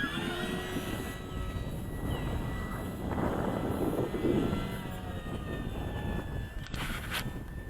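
An FMS 2000 Beaver model airplane flies past in a little wind, its steady electric propeller whine rising and swelling as it nears mid-pass, then easing off, loud and continuous throughout.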